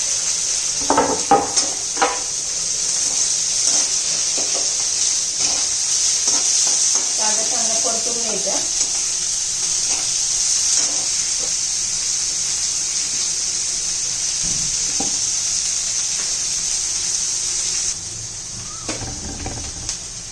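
Peanuts, green chili and onion frying in a pan, with continuous sizzling, stirring scrapes and a few clanks against the pan, staying fairly loud before easing slightly near the end.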